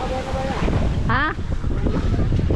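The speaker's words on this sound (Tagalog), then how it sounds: "Lakas pa ng hangin." Strong wind roars and buffets the microphone in a steady, rough rush, with voices talking briefly underneath in Filipino on a fishing trip.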